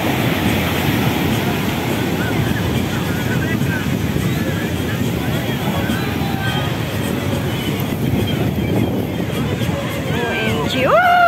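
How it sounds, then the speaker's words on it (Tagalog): Strong waves crash continuously on Nahr Ibrahim Beach, a loud, steady roar of surf close by, with people talking and shouting over it. "Ang lakas po ng alon."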